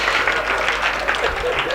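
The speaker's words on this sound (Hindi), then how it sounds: "तालियां बजाए तो मन से बजाए दोस्त" Audience applause at a Hindi comic poetry recital held by a Rotary Club, sustained steady clapping filling the whole moment with a dense, even texture and no break.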